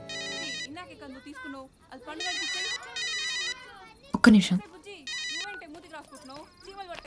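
A mobile phone rings with an incoming call, a repeating electronic ringtone in bursts across the clip, with brief speech and a sharp clattering noise partway through.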